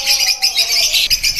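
Pet birds in a home breeding setup chirp rapidly and brightly, a continuous stream of close, high tweets with brief pulses of louder calls.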